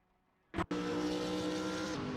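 Racing-game cars, a Lamborghini Huracan GT3 and a Callaway Corvette C7 GT3 R, burst in with a short sharp blip, then hold a loud, steady, high engine drone close by.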